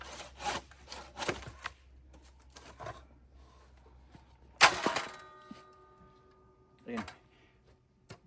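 A hand saw cutting thick red cedar for raised garden beds, with several short rasping strokes in bursts, a sharp crack midway and more strokes after, close and fairly quiet.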